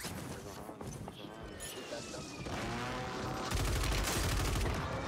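Gunfire bursts and impacts during a Warzone 3 match, busy and layered, growing denser and louder in the second half while voices talk over the action.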